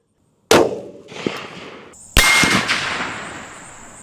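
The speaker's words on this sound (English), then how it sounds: "But enough talking, let's do some shooting." Two sharp, loud rifle shots from a Browning X-Bolt 6.8 Western, each a sudden crack with a decaying outdoor tail, spaced about a second and a half apart, with a faint metallic ring after the second.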